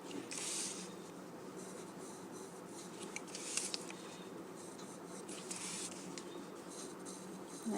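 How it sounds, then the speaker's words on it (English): A pencil shades on paper along both sides of a tangle motif drawing. Close, continuous scratchy strokes come in uneven bursts and pauses, with no talking. "add shading on both sides."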